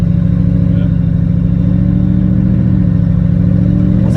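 Ford F150 with a Gen 2 twin-turbo Coyote engine driving into a yard: a loud, close, steady engine drone with a dense low rumble, holding constant with no clear talk over it.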